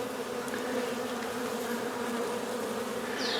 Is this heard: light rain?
no